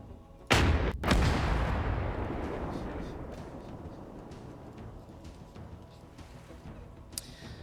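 Two heavy booms from a D-30 artillery gun in a combat video game, a deep blast followed half a second later by a second, then a long rumbling decay under quieter background ambience.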